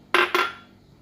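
Two quick metallic clinks as lontong seasoning is poured into a pot, a tin-like strike followed by a second a moment later, ringing briefly and fading into quiet.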